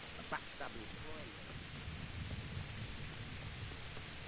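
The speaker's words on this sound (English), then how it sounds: "I really like the rain." Rain in the video game Kingdom Come Deliverance 2 makes a soft, steady hiss with faint low rumbling, heard quietly and continuously throughout.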